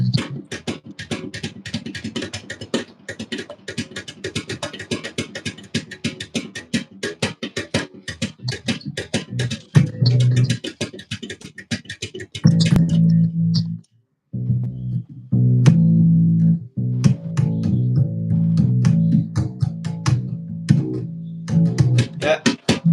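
Bass guitar exercise played as a repeating pattern of hit, pull, hit and tap, with percussive low plucked notes and muted slaps, busy and close in the first half, then steadier sustained low tones after a brief pause.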